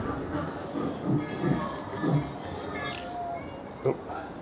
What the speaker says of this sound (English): Here comes the train. I'll show you the train.